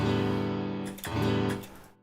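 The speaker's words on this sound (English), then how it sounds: "this is the sound of a guitar when you're not playing anything, when you're not fretting anything and you strum it." Open strings of a six-string guitar in standard tuning ring from a strum, then the guitar is strummed a second time, the fresh chord sustaining before it fades, close and alone.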